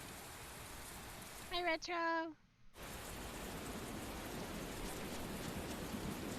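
Steady rain hiss in the video game Tales of Berseria, a constant wash broken by a short burst of voiced speech and a brief silent gap before the rain resumes.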